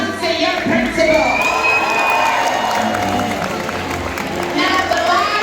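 A school audience at a Black History Month performance cheers and applauds, with children shouting and whooping over steady clapping; the crowd noise is loud, close and continuous throughout.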